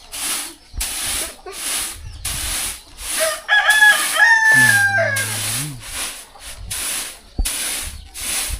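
A rooster crows once, clear and fairly close, in a rural Pakoh village in southern Laos. Repeated bursts of hissing, rushing noise come before and after the crow.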